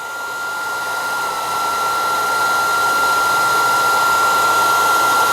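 A heat gun blows hot air onto solder and heat shrink tubing on a Jeep wiring repair, a steady loud whooshing roar that swells slightly and holds constant throughout, with no talking.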